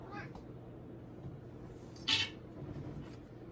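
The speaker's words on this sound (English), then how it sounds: "that's my cat." A house cat lets out a single short meow partway through. The sound is fairly close but soft, set against a quiet room hum during a makeup session.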